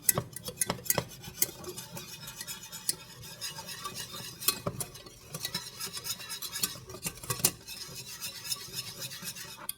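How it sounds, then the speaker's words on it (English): A utensil scrapes the bottom of a cooking pan holding meat drippings, making irregular close-up metallic scratches and light clinks in uneven strokes, with no talking. "And I'm scraping the bottom."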